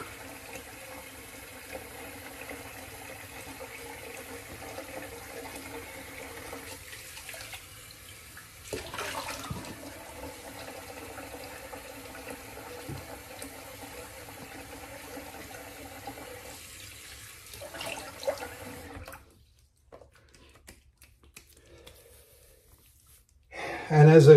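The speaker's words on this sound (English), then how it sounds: "Let's do a cold water rinse." A tap runs for a cold-water rinse during a straight razor shave, a steady close stream of water that stops briefly partway and cuts off near the end.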